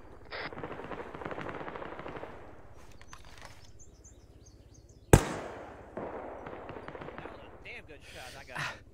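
Gunfire in the military shooter game Arma 3, with one sharp, loud shot cracking out midway over a steady rumble of game noise, followed by a quieter tail. Voices talk intermittently.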